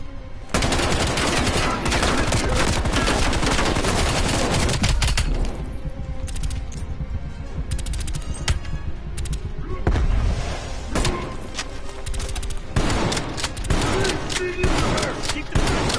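Rapid gunfire and heavy blasts from a grenade fight in Call of Duty, dense and continuous throughout, with bursts of automatic fire piling over one another at close range.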